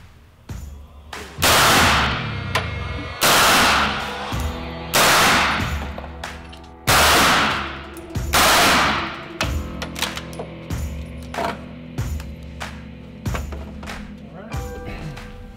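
Rifle shots through a SilencerCo 3 lug suppressor, a series of loud sharp cracks with ringing decay, fired several seconds apart, followed by softer clicks and handling noises of the gear.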